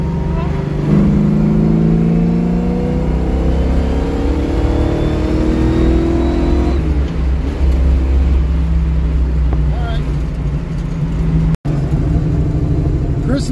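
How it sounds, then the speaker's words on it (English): A Ford Mustang with a freshly tuned carburetor revs loudly, engine pitch climbing and falling in repeated sweeps for several seconds before settling into a steady idle-like drone, with a sharp break near the end. "Now maybe I'll quit over revving this thing"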